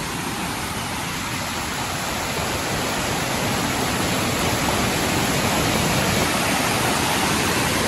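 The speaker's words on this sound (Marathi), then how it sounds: "या बाजूने तर प्रवाह जास्त प्रवाहित झालेले आहेत" Strong stream water rushing through a forest where the flow has flooded over a footpath, a loud, steady broadband roar that holds constant throughout with no voices.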